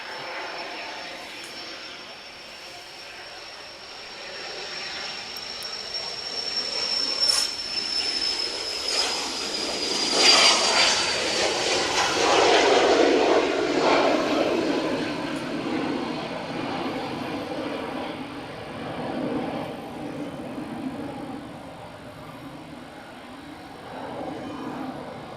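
A Cessna Citation Mustang jet passes at a distance with a rising and fading engine roar, and people talk over it.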